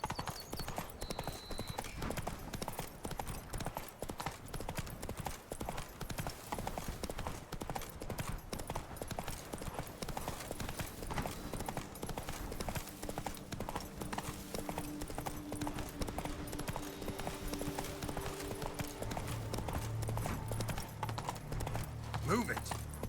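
A horse gallops in The Witcher 3: Blood and Wine, with dense, unbroken hoofbeats driving steadily the whole way through, set against game sounds and occasional speech.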